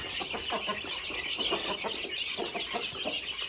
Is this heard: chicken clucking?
yes